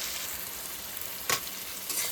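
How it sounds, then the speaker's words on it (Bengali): Sliced onions fry with salt and turmeric in a pan, a steady soft sizzle with a couple of brief stirring scrapes, close and fairly quiet, no voices. "খালি নুন আর হলুদ দিয়ে কিন্তু পেঁয়াজটা ভালো করে ভাজা হচ্ছে"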